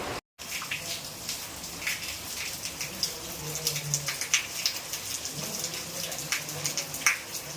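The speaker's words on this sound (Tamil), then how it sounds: "மழை காலம் மாதிரி மழை பெய்யுது" Steady rainfall during a monsoon-like downpour, close and dense, with continuous patter and scattered louder drops, alone without voices.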